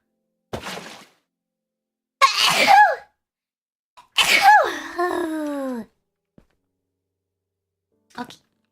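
A woman lets out a breathy inhale, then a couple of sharp sneezes with voiced, falling tails, followed by a brief faint sound, each burst separated by quiet gaps.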